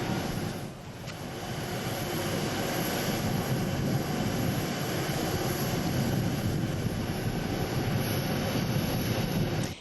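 A steady, loud roar of a presidential jet airplane's engine, continuous throughout with a broad rumbling hum and high whine.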